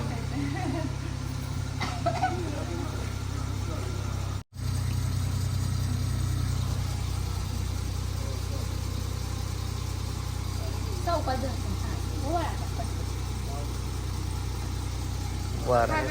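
A car engine idles steadily in a continuous low hum. It cuts out briefly once early on, and faint voices are heard in the background.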